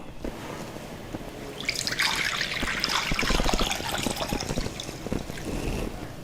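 Water pours into a pot of chana dal, a soft trickle growing into a steady, close splashing stream that lasts several seconds.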